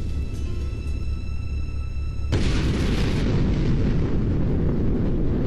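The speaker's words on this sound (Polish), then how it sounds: "No i wybuch." In the video game GTA 3, a sudden loud blast cuts in mid-clip and becomes a sustained, roaring rumble, dense and broadband, after a quieter stretch with steady tonal hum.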